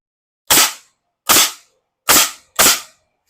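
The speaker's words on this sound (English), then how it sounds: "Don't be afraid to shoot some nails in it also" Nail gun driving nails into wooden saw horses, four loud, close, sharp pneumatic bangs in an uneven rhythm with silence between them and no talking.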